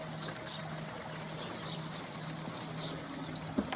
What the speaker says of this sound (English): It just drips onto that tray.